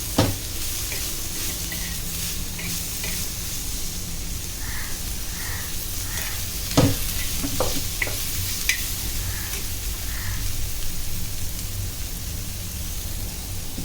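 Stuffed crab frying on a flat pan with coriander and a little oil, pressed and rubbed with a spoon: a steady close sizzle runs throughout, with a few sharper spoon taps and scrapes partway through.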